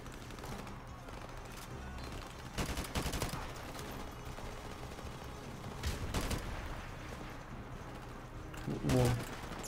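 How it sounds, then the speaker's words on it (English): Gunfire in Call of Duty Modern Warfare Remastered, with a few sharp shots and short bursts scattered over steady game ambience, while a voice talks throughout. "I just shot by accident and I actually damaged someone"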